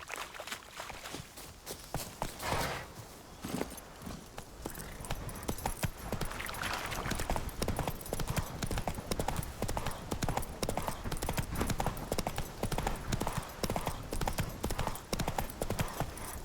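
Roach, the horse in The Witcher 3, gallops with rhythmic hoofbeats that start sparse and settle into a dense, steady clip-clop, close and continuous throughout.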